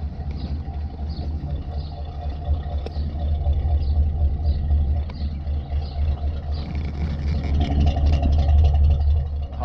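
A carbureted car engine idles close by in a steady, low, throbbing rumble that swells slightly in level as it runs.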